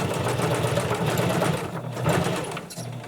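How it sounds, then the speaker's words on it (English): A sewing machine stitches fabric for a face mask, running in a steady, fast continuous hum with a rapid needle rhythm, close and clear with no talk. "I'm going to continue to sew until I get close to my halfway point."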